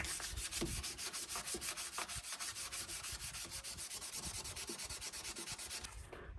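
Steady, rapid back-and-forth rubbing of 600-grit sandpaper on a vintage Chicago Cutlery knife blade, a close, even scratchy rasp that continues without pause and without voices.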